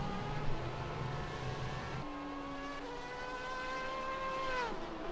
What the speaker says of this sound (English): we're watching David Hatton in the purple BMW M8.